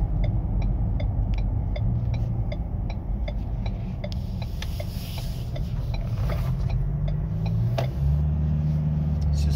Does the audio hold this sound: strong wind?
no